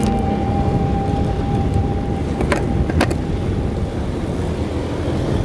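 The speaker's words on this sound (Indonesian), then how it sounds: "di sini kita rata-rata bawa motor 60-an aja" Motorcycle cruising at a steady pace of about 60 km/h on a solo touring ride through Majalengka, West Java, with a constant low engine rumble blended with heavy wind buffeting, plus a couple of brief sharp knocks midway.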